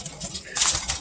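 Pigeons cooing and calling softly in a loft, short close bird vocalizations over a low background.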